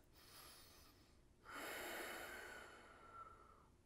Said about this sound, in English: strong ujjayi breath